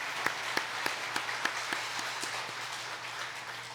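A church congregation at an elder ordination service applauds faintly, with evenly spaced, distinct claps that form a soft rhythmic pattern and fade gradually in a quiet, reverberant hall.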